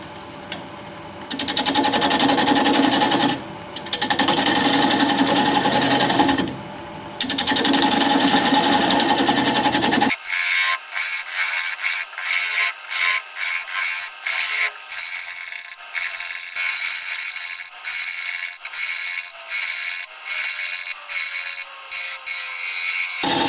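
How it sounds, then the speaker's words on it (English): Wood lathe spinning at 650 RPM while a freshly sharpened 5/8 inch bowl gouge cuts a punky, partly decayed piece: a loud, steady whir broken by short pauses over the first ten seconds, then a thinner, fluttering cutting rasp that carries on. "We're gonna be turning at 650 RPM. Freshly sharpened 5/8 inch bowl gouge,"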